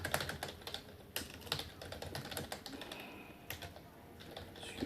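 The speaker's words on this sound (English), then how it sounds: "Excuse my terrible typing." Quick, uneven keystrokes clatter on a computer keyboard, close and fairly soft, with irregular bursts of taps and short gaps over a few seconds.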